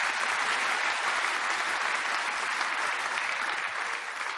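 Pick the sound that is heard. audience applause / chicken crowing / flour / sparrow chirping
audience applause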